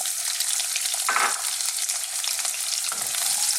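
Garlic and onions, cut thick and chunky, stir-fry over very high heat in a wok, a loud unbroken roaring sizzle with a couple of brief tossing clatters, close up and with no voices.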